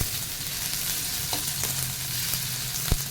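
Fried tofu going into a hot pan for a quick Filipino home-cooked dish, a steady close sizzle with a few soft clinks and stirring knocks, no talk.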